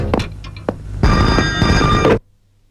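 A telephone bell rings loudly and steadily for about a second, preceded by a few scattered knocks, then cuts off abruptly into silence.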